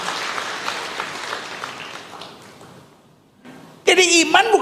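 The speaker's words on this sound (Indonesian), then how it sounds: "Berikan tepuk tangan yang meriah buat Tuhan." Congregation applause breaks out during a church sermon, a loud burst of clapping near the end following a brief lull after the preacher's speech.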